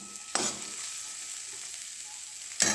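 Onion and carrot for chicken soup fry in a pan with a soft, steady sizzle, broken by two sharp scraping stirs, one near the start and one at the end.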